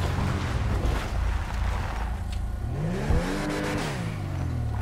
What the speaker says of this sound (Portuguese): Tô achando o ronco dessa X6 meio baixo.